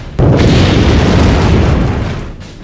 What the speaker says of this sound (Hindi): न्यूक्लियर बम के चलते एक बड़ा धमाका होता है।